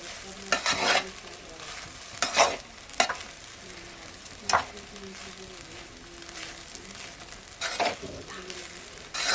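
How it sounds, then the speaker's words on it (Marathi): Poha is stirred in a pan with close, rhythmic scraping strokes in irregular bursts over a soft sizzle. Faint voice-like tones sit underneath. "व्यवस्थित असे ढवलून घ्यायची"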